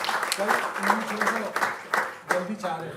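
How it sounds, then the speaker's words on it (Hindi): Audience in an auditorium at a birthday celebration event clapping to welcome a guest, scattered claps rising and falling while someone talks over them. "एक बारी तालियां बजा दें, स्वागत कर दें।"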